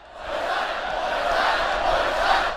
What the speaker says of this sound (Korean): 환호는 야유로 변했습니다